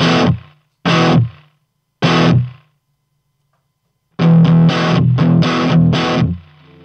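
Distorted electric guitar through a Caline CP39 The Noise noise gate pedal: short heavy chords stop abruptly into silence, then a longer choppy riff follows, each note cut cleanly by the gate, loud and close with no talk.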